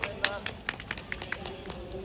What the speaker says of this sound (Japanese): 何回も拍手させて。